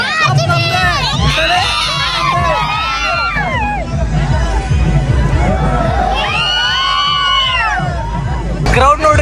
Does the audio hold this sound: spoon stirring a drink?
no